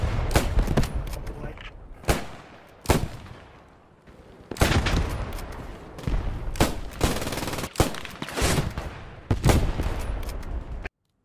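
Loud, sharp gunfire cracks in an irregular series, with rolling battle noise and distant shots between them, from a sniper rifle in the World War II shooter Post Scriptum on Utah Beach.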